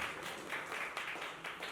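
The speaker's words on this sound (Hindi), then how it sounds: "इन सबके लिए मेरे जोरदार तालियां होनी ही चाहिए।" Brief applause from an audience at a public event with film personalities, a moderate burst of scattered clapping heard alone and slightly distant for under two seconds.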